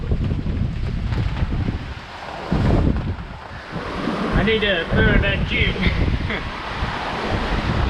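Strong wind gusting to 30 knots roars across the microphone with the wash of waves on a sailboat crossing the Pacific, while people talk over the noise.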